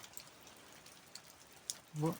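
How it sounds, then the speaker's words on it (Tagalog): Steady rain patters in a soft, continuous hiss, with a few brief louder drops and a faint low voice near the end. "Naghihintay po tayo na tumila yung ulan"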